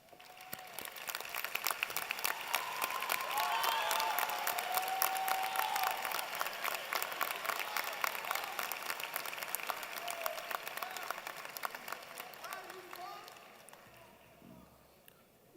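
A graduation crowd at an engineering college ceremony claps for honors students, a sustained wave of applause that swells, holds, then tapers off, with a voice briefly audible over it.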